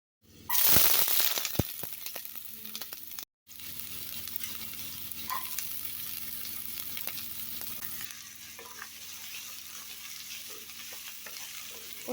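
Snake gourd sautéing in a hot pan for a Tamil kootu, a loud burst of sizzle as it goes in settling into a steady crackling fry with occasional scrapes of stirring, no talk.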